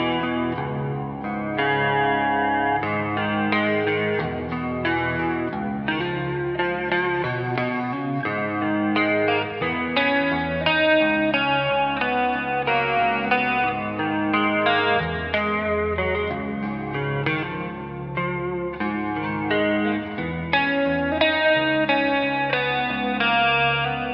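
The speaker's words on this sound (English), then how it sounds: "I'm now on a Dumble profile on clean mode with a chorus pedal," An Ernie Ball Music Man electric guitar played through a clean Dumble amp profile with a chorus pedal, a continuous run of shimmering chords and single notes, clear and upfront, with no talking.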